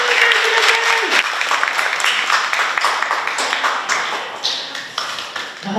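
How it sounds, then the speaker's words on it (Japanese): An audience at a symposium on community building through sports claps to welcome a speaker, a full burst of applause with an electronic tone fading out at the start, then the clapping thinning gradually. "大きな拍手で"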